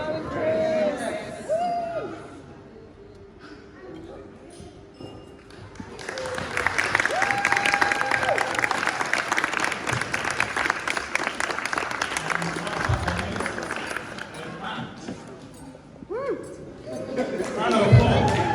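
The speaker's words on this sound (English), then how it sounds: "Round of applause" A wedding crowd breaks into sustained applause after a toast to the bride and groom, building to a loud peak and then tapering off, with chatter and voices mixed in.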